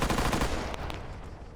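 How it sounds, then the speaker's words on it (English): Rapid gunfire from another player in Arma 3, a quick burst of several shots up front that thins into a fading tail, moderately loud and alone. "I could hear that guy shooting."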